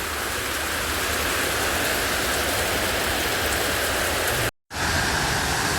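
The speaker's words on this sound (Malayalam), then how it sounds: "മഴ കാരണം ഞങ്ങളിതാ ഒരു മരത്തിൻ്റെ അടിയിൽ നിൽക്കുകയാണ്." Heavy rain pours near Abbey Falls in Madikeri, Kodagu, heard from shelter under a tree as a dense, continuous roaring hiss that stops for a split second before resuming just as strongly.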